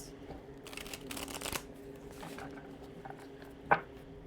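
A deck of glossy playing cards shuffled by hand indoors, a few soft riffling bursts with a sharper snap near the end, faint and close.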